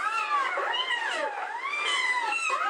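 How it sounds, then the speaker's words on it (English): A kitten meows over and over from a played video, high rising-and-falling cries in quick succession, clear and fairly close with no voices. "Baby cat."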